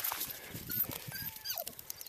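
A Newfoundland Golden Retriever puppy swimming for the first time, giving faint, brief whimpers and a rising-falling whine near splashing water.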